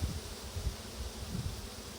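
A low, continuous drone of many honeybees buzzing close by during a hive inspection in the UK, a dense humming swarm that wavers slightly in loudness.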